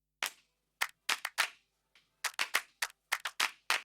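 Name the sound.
offbeat hand clap sample with short natural reverb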